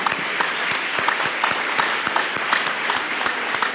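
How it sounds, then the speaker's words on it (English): Audience applause for a steering committee and staff standing at a vacancy strategy launch event, a steady, dense patter of many hands clapping in a hall with distinct sharp claps throughout, fairly loud and continuous, no talking. "And let's give them a round of applause."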